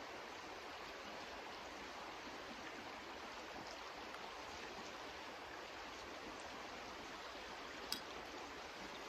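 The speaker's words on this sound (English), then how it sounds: "Just sit here and watch the river roll by." A river flows past a snowy winter mountain campsite, a steady broadband rush of moving water that holds even and continuous throughout, with no talk over it and only a faint click near the end.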